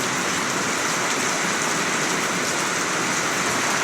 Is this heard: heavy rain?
yes